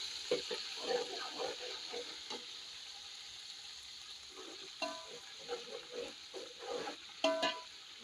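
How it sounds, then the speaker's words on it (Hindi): Ginger and garlic sizzle and fry in a hot pan, a soft steady crackle with occasional stirring scrapes and clinks, close and fairly quiet with no talk. "मैंने इसमें अदरक और लहसुन डाल दिया। इसको हमने फ्राई करना है"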